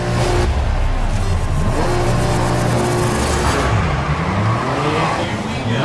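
Race cars revving on the grid at a race start in the Grid 2019 video game, a dense, loud roar of engines rising in pitch together, continuous and close, with a slight drop near the end.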